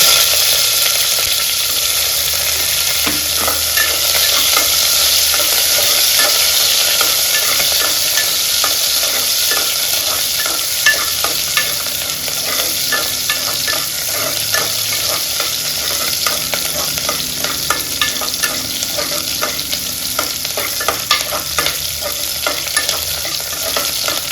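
Cumin seeds and onion fry in hot oil for drumstick dal sambar, a steady loud sizzle running throughout with a spoon stirring and scraping the pan close by, no talking.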